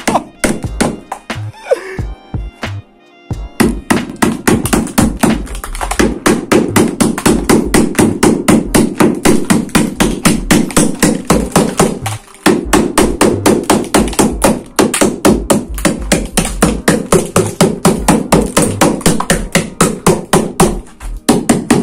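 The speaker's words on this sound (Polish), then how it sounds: "W sumie wezmę młoteczek, zobaczę." A small hammer taps rapidly and repeatedly on a car's corroded front body pillars, producing loud, close, metallic knocks in a fast steady rhythm with brief pauses.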